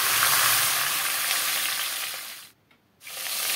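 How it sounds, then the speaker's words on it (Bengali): Fish heads sizzle in hot mustard oil in a pan, a dense, steady hiss close up. It drops out briefly for a moment, then resumes. "তেলের মধ্যে দিয়ে মাছের মাথাগুলো আমি ভেজে নেব"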